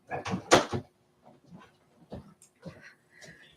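A door pushed shut inside a home lands as one sharp, close thud near the start, followed by a few softer scattered knocks and rustles.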